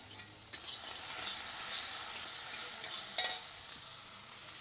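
Crab and shrimp fry in hot oil with a bright, continuous sizzle, broken by a few sharp clacks of stirring against the pan, close and without talk.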